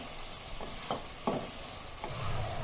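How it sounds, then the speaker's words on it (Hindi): Apple gourd (tinda) pieces being stirred into a hot spice masala in a pan, giving a steady low sizzle broken by a few soft scraping stirs, close and with no talking. "अब हम इसमें ये टिंडे ऐड कर देंगे और टिंडे डाल के हम इसको मसाले में अच्छी तरह मिक्स करेंगे।"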